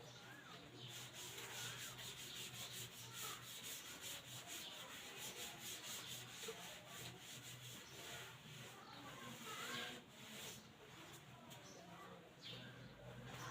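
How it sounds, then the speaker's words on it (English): Steady scrubbing of a board being wiped clean of writing, a continuous close rubbing rasp with a faint hum underneath and a person speaking quietly over it. "So I will just rub this out."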